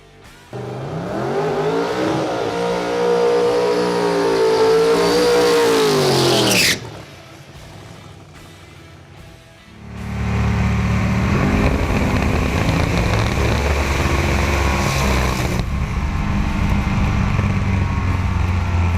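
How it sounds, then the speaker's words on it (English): The Red Victor race car runs on a racetrack, its engine loud and close as it revs up, cuts off abruptly, then roars back at full power and holds a steady, harsh drone. "Once we started running the car, we made like sort of one mediocre run down the racetrack"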